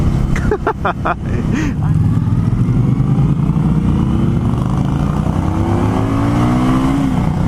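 An Indian Scout motorcycle revs hard and accelerates, its engine note climbing steadily and loud from a few sharp blips into a sustained roar, with a rider's voice over it.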